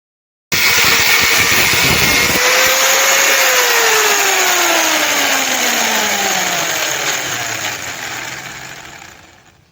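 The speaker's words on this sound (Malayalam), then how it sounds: "ഒരേ അളവിൽ നമ്മൾ 2 പീസ് കട്ട് ചെയ്തെടുത്തിരിക്കുകയാണ്" Metal stock being cut into two equal pieces for blacksmith tongs, a loud continuous power-saw whine with a falling pitch sweep as the blade bites, fading out near the end; no talk.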